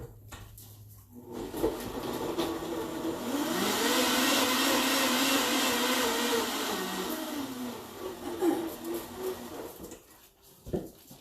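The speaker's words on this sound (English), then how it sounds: "I'm going to go blend" A countertop blender whirs through a green drink of jalapeno and cilantro, spinning up to a loud steady grinding roar for several seconds, then winding down with a few clunks as it stops.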